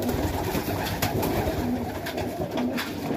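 Highflyer pigeons coo steadily in a loft, several soft overlapping calls repeating through a constant low murmur of flock noise, with no talking.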